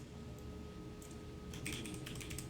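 Fingers tap out a file name on a computer keyboard, with soft scattered keystrokes early, then a denser burst of quick clicks in the second half, quiet and close, with no talk.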